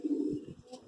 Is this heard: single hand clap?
no